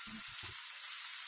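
Pumpkin curry fries in a pan with a steady, close sizzling hiss, opening with a few low knocks of a spoon against the pan.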